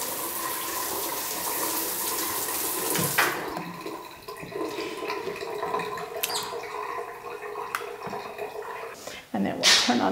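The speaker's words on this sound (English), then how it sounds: "And then we'll turn on this tub." Water runs from a bathtub faucet in a steady, moderate splashing stream, with several clunks and knocks and soft talk mixed in.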